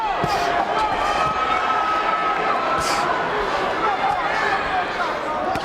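A boxing arena crowd roars and chants during a 1999 WBA title bout between Paulie Ayala and Johnny Tapia, a dense steady wash of voices under ringside commentary.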